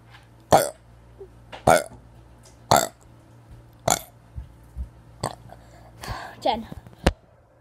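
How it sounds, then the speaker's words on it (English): Repeated loud burps sound close up, one after another in a burp-many-times-in-a-row challenge, about a dozen deep belches with short pauses between them and a few quicker, smaller ones near the end. "Today I'm attempting a challenge to burp 100 times in a row."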